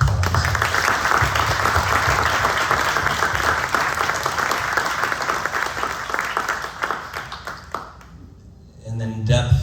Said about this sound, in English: Let's give them a little bit of warm applause.